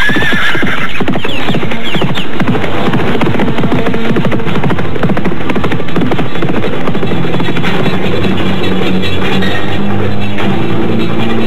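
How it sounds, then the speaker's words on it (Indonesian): Horses gallop with steady, rapid clip-clop hoofbeats and repeated neighs, loud and close throughout amid a busy dramatic soundtrack mix. "Ayo, cepat pacu kuda kita lebih cepat lagi."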